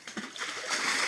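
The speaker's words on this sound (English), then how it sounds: "You start pouring water on the loamy soil this way." Water is poured from a basket onto loamy soil at a riverbank, a brief close splash and patter that builds into a steady hissing spatter, with no talk.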